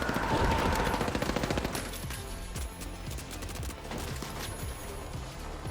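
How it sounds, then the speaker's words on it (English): In The Finals game, a turret powers up with a dense, rapid mechanical rattle and whirring tone, loud at first, then settling into a sustained clattering hum. "For example, the arming of turrets."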